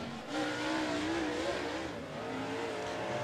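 A super late model race car laps Thunderhill Raceway, its engine roaring at high revs down a straightaway. The sound is steady and slightly distant, with small rises and dips in pitch as the car holds the throttle.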